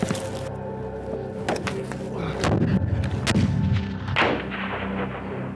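A grenade goes off during a military assault exercise by Queen's guard soldiers, a heavy boom with rumbling, debris-like crackle over several seconds, followed by a later thump.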